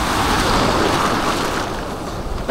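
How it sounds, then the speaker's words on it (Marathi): Sea waves at Devgad beach surge and wash in a dense, continuous roar, loud and close with wind buffeting the microphone, easing slightly toward the end. "खतरनाक लाटा"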